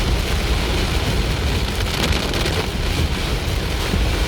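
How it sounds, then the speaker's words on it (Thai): Heavy rain pounding down during a storm in Wiang Pa Pao, Chiang Rai, Thailand, a dense, loud, continuous roar of drops with gusty wind buffeting close by. "ผมก็แปลกใจเชียงรายชอบฝนตก นี่มันควรจะเป็นเข้าช่วงหน้าหนาว แล้วตกโอ้โหแรงมากเลยครับเนี่ย"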